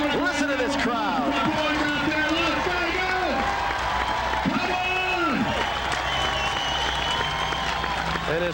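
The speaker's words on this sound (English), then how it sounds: "Listen to this crowd." Crowd at an AVP King of the Beach volleyball event in 1999 cheering and applauding after a long rally, a dense sustained roar under continuous excited commentary.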